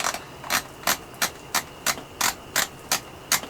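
Magazine cap being screwed onto a Winchester SX4 shotgun, giving a steady series of about ten crisp ratcheting clicks, evenly spaced and close, with no talking over them.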